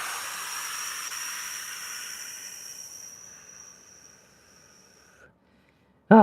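A steady breathy hiss of one long exhale during a stretching fold in a flexibility routine, fading gradually over several seconds before silence and a brief soft thump at the end.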